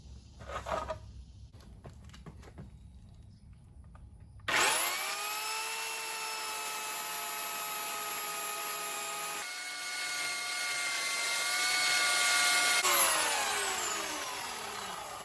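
A small electric chainsaw whines steadily as it cuts into a small tree about 6 feet tall, its pitch shifting and straining partway through, after a few seconds of rustling and handling noises.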